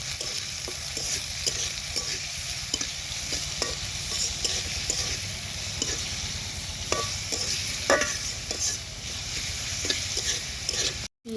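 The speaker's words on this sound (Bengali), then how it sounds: "পেঁয়াজ আর কাঁচামরিচটা ভাজা ভাজা হয়ে গেছে" Onions and green chilies fry in hot oil, giving a steady, close sizzle with constant stirring scrapes and small spoon clicks against the pan; no talk, ending abruptly.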